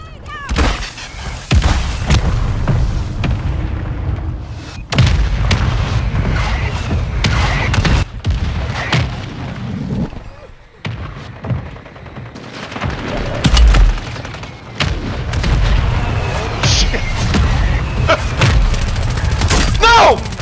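Heavy booming blasts from an airstrike in a chaotic multiplayer shooter game, several loud broadband impacts rolling in over about twenty seconds amid continuous gunfire and battle noise, with players talking throughout.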